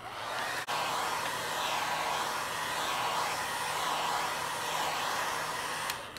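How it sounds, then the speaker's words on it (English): Hair dryer blowing steadily, a continuous close whooshing roar that runs without pause, switched on with a brief click at the start. "I'm going to take the hair dryer again and just give it a quick blast."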